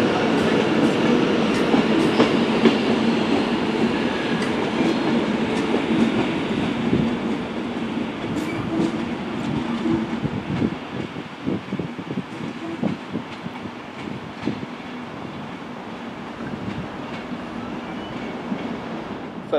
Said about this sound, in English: a Northern Class 769 has just arrived in for Southport